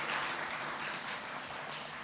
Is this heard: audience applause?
yes